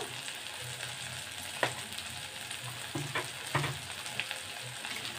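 Masala corn frying in a pan with salt, turmeric and pepper, sizzling steadily while being stirred, with scattered close scraping clicks of the spoon against the pan.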